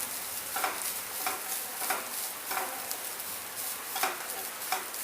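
Grated coconut sautéing in hot ghee gives a steady, soft sizzle with a regular scrape of stirring roughly every half second, close and moderately quiet, with no voices.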